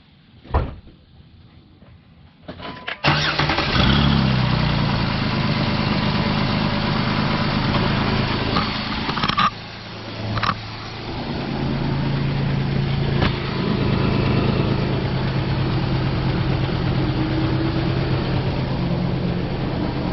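A Jeep Wrangler JK engine cranks briefly and fires up, then settles into a steady, loud idle rumble that continues close by with a few small clunks, no voices.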